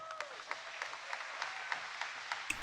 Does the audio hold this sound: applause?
yes